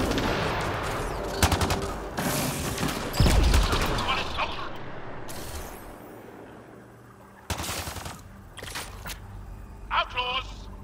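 Gunfire in the video game Mass Effect Andromeda, with loud bursts and sharp shots cracking close by and clustering at irregular intervals over a dense backdrop of combat noise, broken by brief lulls.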